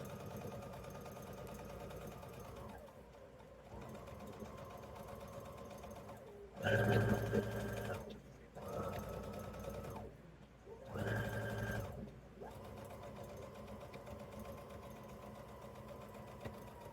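A sewing machine stitches a fabric tote in a steady motor whir, with short pauses and bursts of faster, louder running in between, close by and alone.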